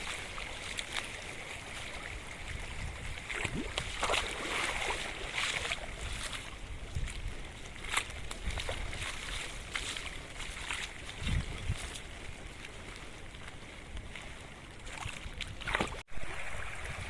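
Continuous rushing of rain-swollen water flowing in a stream beside rice paddies in Konkan, a dense broadband wash with occasional splashes, no talking.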